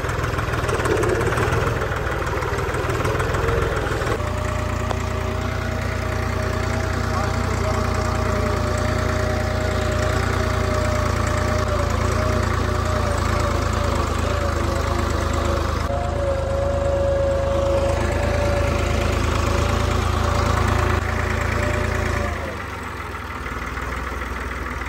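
Vehicle engine running steadily in gear after shifting from neutral through first to second, a loud continuous mid-low drone with a steady tonal hum lasting throughout, dropping off near the end.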